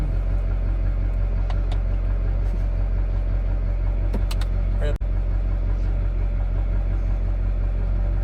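A drift car's engine idles with a steady, loud low rumble throughout. The car backs up, a sharp clunk comes near the middle, and there are faint voices in the background.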